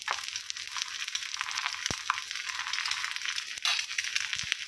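Omelette frying in oil in a pan, a steady bright sizzle running throughout with a couple of small clicks and knocks from the pan.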